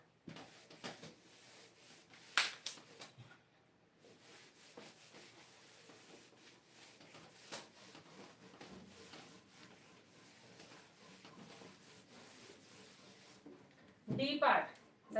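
An eraser wipes writing off a board during a class 7 maths lesson, producing faint, scattered scrubbing strokes over a quiet room, with a louder rubbing burst near the end.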